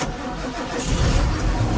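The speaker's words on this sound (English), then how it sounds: "So we're just going to start the tractor up and head off down to Bury St Edmunds." John Deere 6930P tractor engine cranking and catching, a short loud burst of starter churn giving way to a deep rough diesel rumble, close by with no talk.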